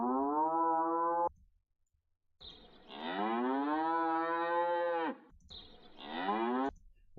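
A sampled cow moo loaded into music software, three long lowing calls in a row, loud and close, the middle one longest, with short silent gaps between them and no talking.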